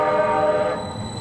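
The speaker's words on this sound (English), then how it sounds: "The honking of a streetcar trying to complete its route, only there's a vehicle on the tracks." Detroit's QLine streetcar on Woodward sounds a sustained, tonal horn blast held for about a second before fading, loud and close over street ambience, with no speech.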